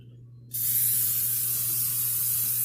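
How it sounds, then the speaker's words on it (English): After a half-second of quiet, a can of cooking spray sprays onto a pan with a loud continuous hiss that holds steady to the end, close to the microphone. "So first we're gonna spray the pan"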